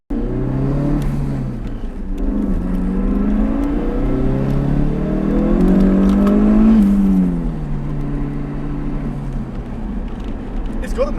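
A 500 HP fully built Ford Focus RS accelerates hard through the gears, its engine note climbing, dropping at shifts and climbing again, loud from inside the cabin with voices talking over it.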